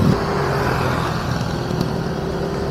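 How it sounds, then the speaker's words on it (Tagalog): Cars and trucks sit bunched up in a road traffic jam, heard from a motorcycle on a long ride as a continuous close rumble of idling and creeping engines, fairly loud and steady throughout. "Dito na nag-ipon-ipon lahat ng sasakyan."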